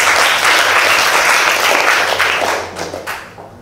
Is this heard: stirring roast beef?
no